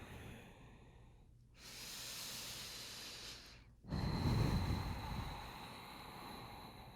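Slow, deep breaths taken while holding a yoga pose, a long inhale followed by a stronger, louder exhale, close and steady with no talk.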